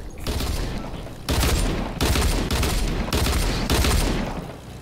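Enemy gunfire in a video game skirmish, with rapid volleys of shots in four loud bursts separated by brief gaps, close and dense with no talking.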